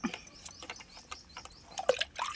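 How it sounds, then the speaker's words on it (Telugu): Muddy tubers being rubbed and scrubbed in water, with soft splashing, dripping and squishing sounds in a quick irregular run, close by and fairly quiet, with no speech. "దాన్ని ఇలా బాగా రుద్ది కడగాలి"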